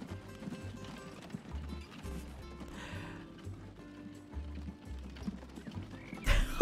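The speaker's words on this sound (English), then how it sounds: "Those horses are so terrifying. Also, they're walking right on the freaking rail." Horse-drawn carts in the Transport Fever 2 game clip-clop along a rail line, a steady rhythmic patter of hooves with faint creaking, then a brief loud whinny near the end.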